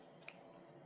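A single quiet snip of scissors cutting a crochet thread end close up, followed by a faint second click, in an otherwise quiet room.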